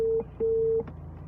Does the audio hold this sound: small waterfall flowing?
no